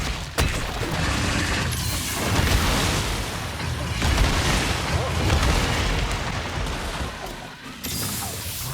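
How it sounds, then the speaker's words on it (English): The Garangolm monster in the Monster Hunter video game slams the ground, heard as loud, dense booming crashes and rumbling impacts that carry on throughout, with a brief gap near the end. "slams towards the hunter, 2 in its normal state and 3 in its elemental states"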